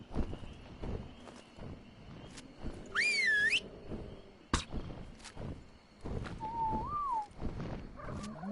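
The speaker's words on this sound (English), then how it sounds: "Hear those whistles? Those are stop whistles." A player in the Ark Survival Ascended video game gives two stop-command whistles to a tamed Quetzal: a high, wavering whistle, then a lower, shorter one a few seconds later. Plodding footstep-like thuds and game ambience sit underneath.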